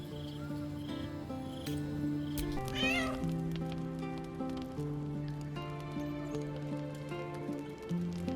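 A cat meows in Baldur's Gate 3, a short rising call near the middle that sits over steady, sustained background game music.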